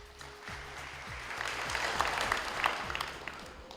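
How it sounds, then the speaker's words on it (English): An audience at a 2011 secondary school debate in Kokopo applauds as the final speaker is called, clapping that swells in the middle and tapers off, moderately distant, over a low background hum. "Round of applause."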